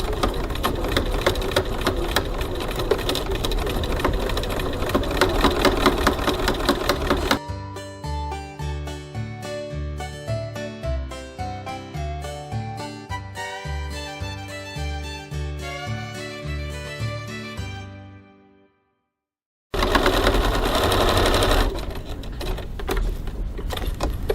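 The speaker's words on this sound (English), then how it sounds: "going to go over to the sewing machine and we're going to stitch that seam" Sewing machine stitching a crossbody bag flap seam at a 2.4 stitch length, loud steady whirring and clatter at the start and end, with a stretch of music filling the middle.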